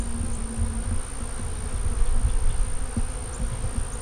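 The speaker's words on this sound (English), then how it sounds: "All the bees coming in and out of the dry pollen feeder" Honey bees buzz around a dry pollen feeder as they fly in and out, a dense close hum with low droning and occasional louder passes, steady throughout with no talking.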